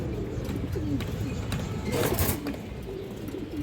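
Pigeons, a pair of old-line birds with a restless male, coo in low repeated murmurs over dense background noise from the loft.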